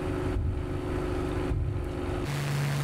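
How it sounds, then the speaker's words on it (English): The Supermarine Spitfire's engine roars in Microsoft Flight Simulator, a loud, throaty propeller drone that shifts pitch in steps as the throttle changes, heard alone without talk. "Since that engine is so throaty. It's just throaty, cool engine."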